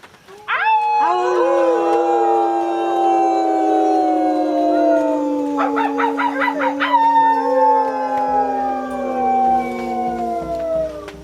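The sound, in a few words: people imitating a wolf howl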